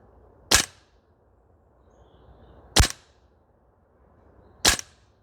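Three sharp, isolated cracks from a DE Ghetto Blaster MWS airsoft rifle on an outdoor range, spaced about two seconds apart against a quiet background.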